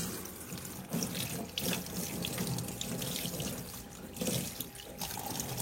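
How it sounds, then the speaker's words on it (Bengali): Tap water runs steadily from a hose pipe into a sink as bottle gourd leaves are rinsed one by one, a close, continuous splashing with brief surges where the leaves meet the flow. "এই পাইপ দিয়ে একটা একটা করে পাতা জল ছেড়ে দিয়ে একটা একটা করে দেবে দেবে ধুয়ে নেবো"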